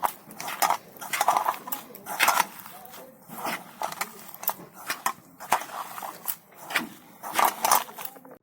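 Leftover cooked rice is kneaded and squeezed by hand with rice flour in a bowl, giving irregular bursts of squishing, scraping and light knocks against the bowl, close and moderately loud.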